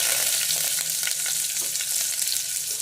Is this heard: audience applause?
no